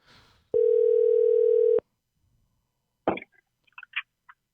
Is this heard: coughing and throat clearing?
no